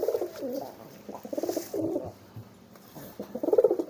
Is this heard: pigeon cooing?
yes